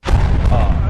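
A missile strike on a building sets off a sudden, loud explosion: a deep, broad boom that hits abruptly and rumbles on for about a second, recorded up close during a news report.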